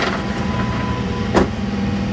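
A truck engine idles in a steady, close, low rumble at an industrial natural gas compressor station, with one brief louder swell partway through.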